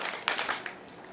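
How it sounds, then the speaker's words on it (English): A few scattered hand claps from a small crowd of graduates at a graduation ceremony sound in quick succession, then fade into quiet background. "clap twice."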